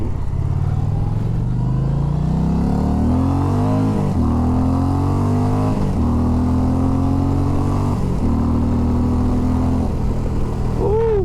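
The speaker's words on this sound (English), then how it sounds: "Get a little first gear, second gear, third gear pull." An Indian Challenger 112ci motorcycle accelerates hard through first, second and third gear, its loud engine drone climbing in pitch, dipping briefly at each shift and climbing again, recorded close throughout.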